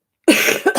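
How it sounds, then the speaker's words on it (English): A nagging cough from a woman with a lingering cold, heard as a few harsh, close bursts in quick succession, with no speech over it. "I have this naggy cough."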